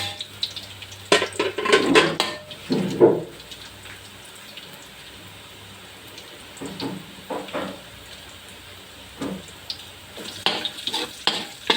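Garlic, onion and chili sauté in a pan for a seafood dish, with a soft sizzle under clattering stirs and scrapes of a utensil against the pan. Busy bursts come early, then calmer stretches with occasional knocks.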